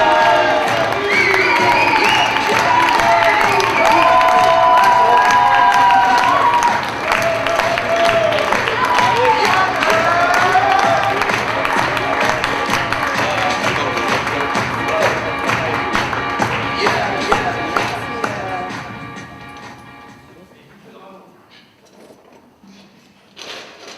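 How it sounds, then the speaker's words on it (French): Loud applause and cheering from a slam poetry audience, with whoops and voices over dense clapping that gradually thins and fades out, ending in near quiet with a last small knock. "On applaudit Tanguy."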